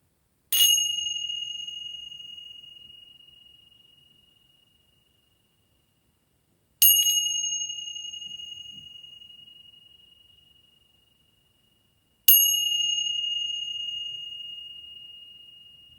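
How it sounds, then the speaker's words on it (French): Three struck Tibetan bell tones spaced evenly apart, each bright, pure and ringing out slowly into silence before the next strike. "cette cloche tibétaine, elle a un son beaucoup plus pur"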